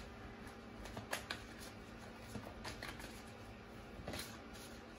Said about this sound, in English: I'm like on a short table today, so I'm trying to shuffle as best as I can.